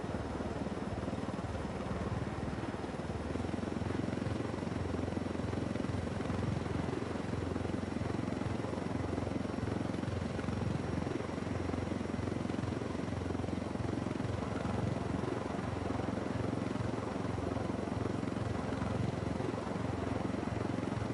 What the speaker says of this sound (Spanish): Hostia, nos persigue un helicóptero.